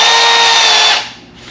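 A power drill drilling a carbon fiber door sill whines loudly at a steady high pitch for about a second, then spins down and stops abruptly.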